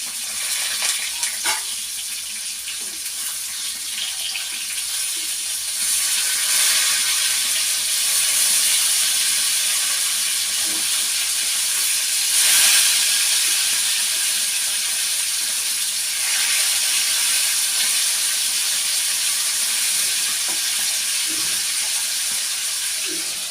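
Food sizzles steadily in a hot pan after being flipped, a bright continuous hiss that swells slightly at moments, close and fairly loud with no talk over it.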